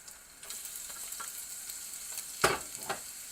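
Onion and vegetables fry together in a pan for chicken fried rice, a soft continuous sizzle with occasional light stirring clicks and one louder scrape, close but fairly quiet, without speech.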